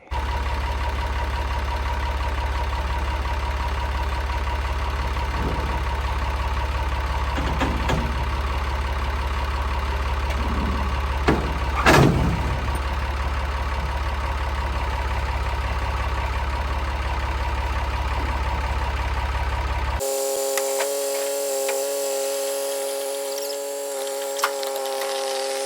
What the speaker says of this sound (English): I'm gonna chain the tractor off to the bed of this thing, and I'm gonna try to pick it up off here with this ladder rack